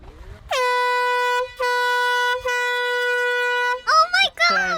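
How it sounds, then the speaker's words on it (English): A loud, blaring air horn sounds in long sustained blasts with brief breaks in the game New World, followed by excited voices shouting. "Gonna sound off his air horn"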